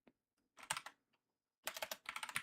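Two quick flurries of keystrokes on a computer keyboard, close and faint, with a few isolated taps before them and a pause in between.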